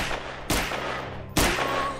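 Two sharp, loud video game gunshot blasts in a first-person Resident Evil 2 mod for Half-Life 2, about a second apart over a steady background hum, with a brief echoing tail after each.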